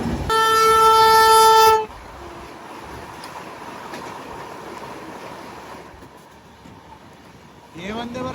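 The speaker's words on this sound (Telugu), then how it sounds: "ఏ వందే భారత్ ఎక్స్ప్రెస్ అనుకుంటున్నారు అది?" Vande Bharat Express train sounding a loud multi-tone horn for about a second and a half, followed by a steady rushing rumble of passing rail travel and a brief rising whine at the end.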